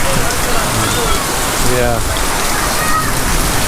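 Heavy rain pours steadily during a massive thunderstorm in Naga City, Philippines, at the start of the rainy season, a dense constant wash heard close by, with someone speaking briefly over it.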